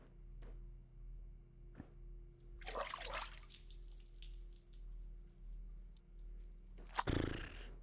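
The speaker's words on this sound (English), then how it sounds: "We slide the lungs into the water." Lungs slide into water in an autopsy simulator video game, producing a soft splash near the three-second mark and a second, sharper splash near the end over a quiet, steady hum, with no talking.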